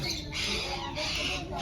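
A green-winged macaw gives harsh, raspy squawks close up, running through most of the moment and ending in a sharper burst.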